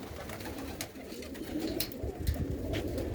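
Pigeons, both adults and young birds, coo on a rooftop loft in soft, overlapping low calls, with a few brief flutters and bumps breaking through a steady, close murmur.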